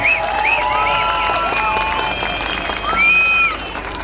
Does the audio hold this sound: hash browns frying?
no